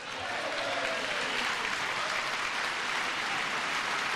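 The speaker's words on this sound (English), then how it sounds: "You got a few people on the Democrat side clapping" Applause in the House chamber during a presidential address to a joint session of Congress is sustained and dense, a broad wash of clapping with faint crowd murmur and no breaks.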